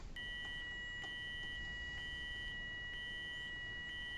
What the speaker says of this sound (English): there's always beeps in this bus